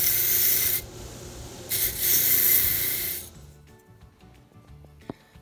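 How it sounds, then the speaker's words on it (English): Wire wheel scrubbing corrosion off metal alligator clips, a loud broadband abrasive rasp in two bursts over the first three seconds, then fading to quiet workshop background. "I'm gonna clean them up on the wire wheel to get rid of the corrosion that's on there."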